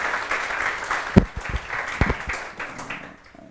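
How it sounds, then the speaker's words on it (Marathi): An audience at a biology career guidance talk applauds, with scattered claps that build briefly and then taper off toward the end. "एकदा जोरदार टाळ्या वाजवा सरांसाठी सर्वजण"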